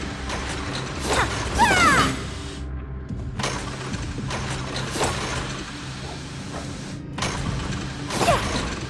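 Widget processing machine in Genshin Impact running with a steady mechanical clatter and ratcheting, grinding rhythm, punctuated by repeated louder clanks and brief squeaks, continuous and close.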